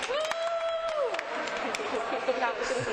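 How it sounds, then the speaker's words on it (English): Street performance audience at an outdoor hypnosis show clapping and cheering, with a whistle-like tone early on and chatter mixed into the sustained crowd noise. "Big round of applause, guys."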